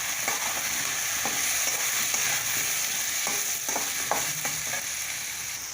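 Steady sizzle of small onions, curry leaves, vadagam and potatoes frying in a pan, with occasional soft clicks of a spoon stirring, close and continuous without any voices.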